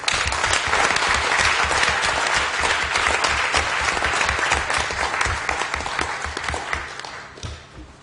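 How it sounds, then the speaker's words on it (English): Council members applaud together in a meeting chamber, a steady, dense round of clapping that holds for several seconds before thinning out and fading toward the end. "Could all members join me in a round of applause as they leave the chamber?"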